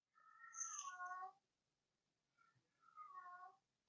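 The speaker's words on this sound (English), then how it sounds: "the cat is outside my door" A cat meows loudly outside a door, giving two drawn-out, wavering calls separated by a pause of about a second, with no other sound around them.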